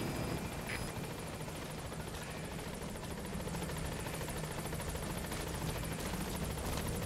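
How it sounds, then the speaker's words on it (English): The Pequod transport helicopter in Metal Gear Solid V: The Phantom Pain approaches a landing zone with a steady, loud rotor roar and whine that stays constant throughout, with no talk over it. "Call me a helicopter."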